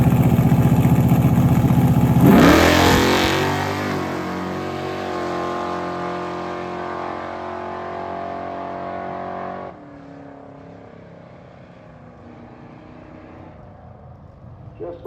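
A 1968 Barracuda Fastback race car makes a drag racing pass, loud engine roar swelling as it launches and passes close, then fading into the distance with a lingering rumble.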